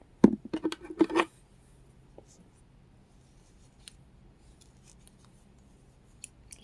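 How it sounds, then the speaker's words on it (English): Pointed scissors poke polyester stuffing into a crocheted amigurumi cat, giving a quick cluster of close, crisp rustling scrapes in the first second, then near silence with faint handling sounds. "These scissors are really sharp on the point, so it really gets it down in there."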